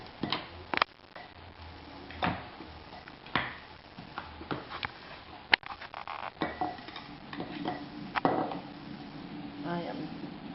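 Glass jars of homemade sauerkraut are packed together, giving irregular clinks and knocks of glass, some sharp and close, under intermittent talking.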